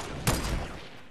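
A single sniper rifle shot cracks out in Fortnite, a sharp loud report followed by a short rumbling decay with no talk over it.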